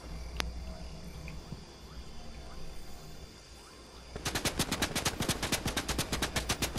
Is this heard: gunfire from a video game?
yes